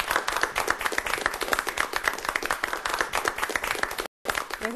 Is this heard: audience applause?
yes